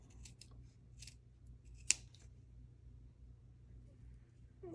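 Scissors make a single crisp snip, clipping into the seam of a small fabric doll jacket; the cut is close and sharp against a quiet, low background hum.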